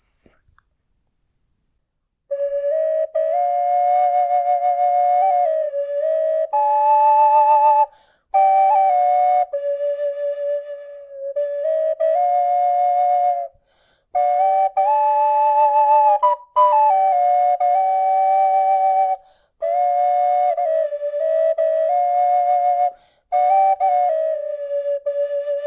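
A colourful 3D printed Tele Tunes flute, blown through one hole to sound a drone and a whistle together, plays a clear, steady two-voiced melody in phrases broken by short breath pauses, starting after a moment of silence.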